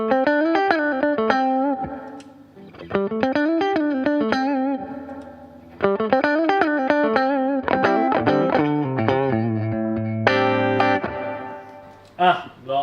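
Electric guitar played through a Bugera V22 Infinium tube amp with the boost engaged gives a loud, distorted tone, with strummed chords and ringing riffs in short, repeated phrases.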